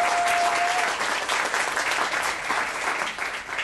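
Live studio audience at a social media marketing show giving a big round of applause, dense and loud from the start, holding steady before tapering slightly near the end, with no talking over it.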